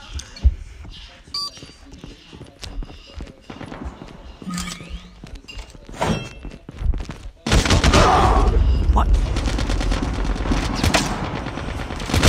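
Rapid gunfire in Call of Duty Mobile during a 2v2 gunfight match: scattered shots and beeps at first, then a loud, dense, sustained burst of automatic fire through the second half, with a voice occasionally underneath.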